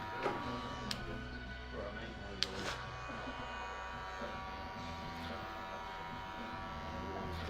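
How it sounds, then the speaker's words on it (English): Electric hair clipper buzzing steadily while blending and thinning the edges of a haircut in a barbershop, a continuous close hum with a few brief clicks and bumps. "I'm just going to thin out just the edges now of that blend with a clipper"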